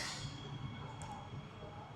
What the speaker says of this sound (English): There's my next train